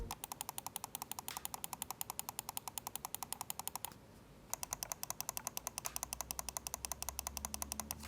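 Rapid, evenly spaced plastic clicks from the medium-notched, textured, wide scroll wheel of a Razer Viper V3 HyperSpeed mouse turning, with a brief pause midway before the ticking resumes.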